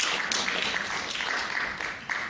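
Audience applause at the close of a presentation event, a dense steady wash of many hands clapping at moderate loudness throughout, with no speech over it.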